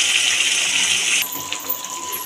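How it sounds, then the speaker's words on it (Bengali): Water pouring into a pan of doi ilish, a Bengali hilsa fish curry in yogurt and spice, as a close, loud rushing splash that stops about halfway and gives way to quieter sizzling and small clinks. "এবার আমি জল দিয়ে দেবো"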